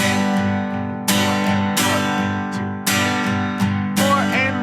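Guitar strummed in eighth notes accenting beat 1, the and of 2 and beat 4, giving a syncopated groove of ringing chords with periodic sharper, louder strokes, close and unaccompanied.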